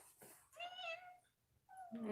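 A house cat meows a couple of times at close range, with a short pause between calls and faint background noise.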